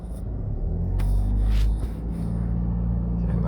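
Car passing on Constant Spring Road in Jamaica, a loud low rumble that swells to a peak around the middle and eases off, with steady engine drone continuing after.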